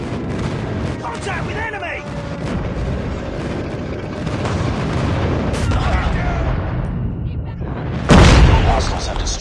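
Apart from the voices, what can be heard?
airstrike explosions in video game Call of Duty Mobile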